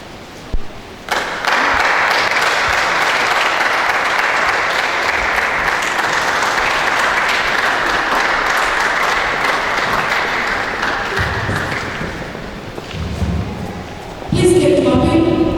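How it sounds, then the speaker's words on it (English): Sustained applause from a large audience fills an opening ceremony of a Nigerian children's reading competition, steady and dense for most of the stretch before fading slightly, with brief tonal music or voices near the end. "please keep clapping."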